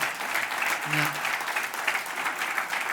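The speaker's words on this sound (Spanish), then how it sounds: "dale un buen aplauso al Señor por ese lindo gesto de parte del Señor" Congregational applause fills a church service, a steady wash of many hands clapping together throughout, with a brief voice or tone rising faintly beneath it.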